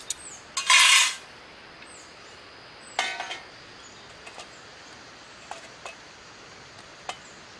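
Metal clinks from an old GI mess kit at a camp cooking setup: a bright rattling clatter near the start, another clink around three seconds, then scattered light taps, close and alone against quiet outdoor background.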